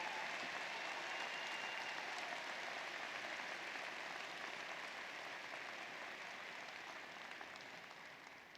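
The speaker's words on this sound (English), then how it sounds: "Please give your moms a big round of applause right now" Sustained audience applause at a university undergraduate commencement, honoring the graduates' mothers; a steady, dense wash of clapping from a large crowd that slowly fades toward the end.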